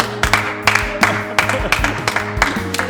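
A group claps hands together in a steady, rhythmic pattern, each clap a sharp crisp burst, over sustained low musical tones in a church setting.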